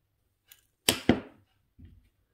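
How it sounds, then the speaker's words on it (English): Wire cutters snip the tail end of craft wire on a wire-wrapped pendant: two sharp, close snaps in quick succession, then a soft rattle, with near silence around them. "Cut the tail end from the beginning."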